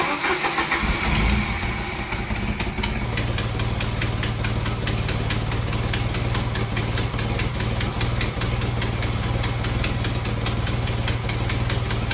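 A Jeep engine cranks and catches, then settles into a steady, loud idle that rumbles on continuously with no talking.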